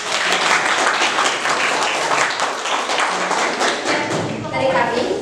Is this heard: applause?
yes